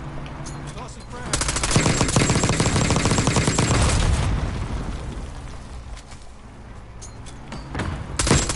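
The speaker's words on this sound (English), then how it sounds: "Tossing frag." Frag grenade explosion and rapid gunfire in the video game Warzone, a heavy, loud sustained burst of automatic fire and blast rumble that fades, then a renewed flurry of shots near the end.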